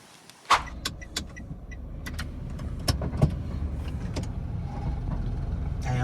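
A Toyota Wigo car is started and prepared to drive off, with a sharp click or door thump followed by a low engine hum that builds steadily and scattered small mechanical clicks, all close and fairly quiet.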